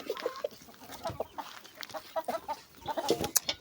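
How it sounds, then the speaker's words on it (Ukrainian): Chickens cluck softly in short, irregular bursts, several birds close by, with no talking. "Такі кури, ви вже їх давно не бачили,"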